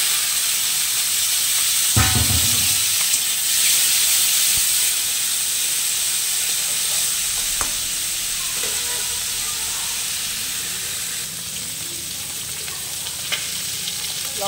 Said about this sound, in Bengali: ওই যে কড়াই তেল দিয়ে দিয়েছি, আর লঙ্কা আর পাঁচফোড়ন দিয়ে দিয়েছি